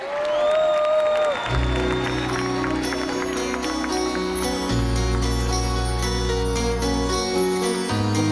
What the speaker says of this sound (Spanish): así que los vamos a recibir con un aplauso muy grande con todos ustedes